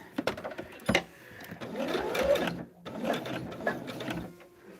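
A sewing machine stitches quilt fabric for a Circle the Geese medallion, close mechanical whirring in bursts with short pauses and a sharp clack between runs.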